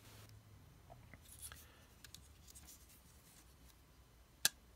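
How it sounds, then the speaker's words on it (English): A folding knife blade with a strong detent snaps open in a single sharp, bright click near the end, preceded by faint handling rustles in a quiet room. "if you have a really good, strong detent, it makes the sound better because the blade just rockets out faster"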